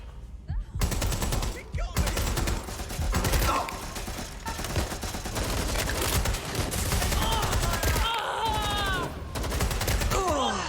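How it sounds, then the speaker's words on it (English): Rapid automatic gunfire and fusillades crack through a Watch Dogs Legion firefight in London, in dense bursts broken by brief pauses, with groans and shouting voices mixed in. "Shots fired!"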